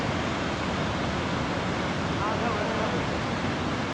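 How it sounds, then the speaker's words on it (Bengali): Dam spillway in the monsoon season, water rushing out at full speed with a steady, loud, broadband roar that fills the whole stretch. "প্রচণ্ড পরিমাণে জলের স্পিড দেখো ফুল স্পিডে জল পড়ছে"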